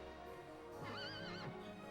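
A horse in Dragon Quest VIII lets out a single clear, wavering whinny that rises and trails off over steady game background music, with no voices.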